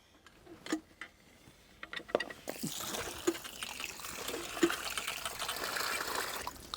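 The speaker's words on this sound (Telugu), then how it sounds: "దీన్ని ఇప్పుడు ఒకసారి బాగా కడిగి మ్యారినేషన్ చేసుకోవాలండి" Raw chicken pieces for tandoori chicken tikka are washed in water. A few sparse knocks and clinks come first, then continuous close splashing and trickling water runs to the end.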